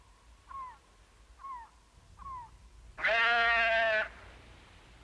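Several short goat bleats from the Robinson family's goats, three brief calls spaced evenly apart followed by a louder, sustained bleat lasting about a second, heard close and alone.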